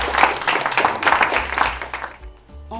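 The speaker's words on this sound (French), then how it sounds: "applaudissez pour vous, messieurs, dames." A workshop audience claps for themselves at a conference on resilience and emotional intelligence, a brief, moderately loud patter of hands that fades near the end.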